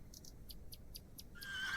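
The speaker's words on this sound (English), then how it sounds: "Oh, it's a horsey." A horse whinnies in The Excavation of Hob's Barrow, a quiet run of quick, evenly spaced high-pitched pulses, faint and alone, with a brighter tone swelling at the very end.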